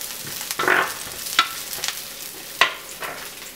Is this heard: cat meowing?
no